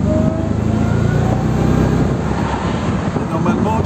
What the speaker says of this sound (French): Et on va te faire écouter le moteur.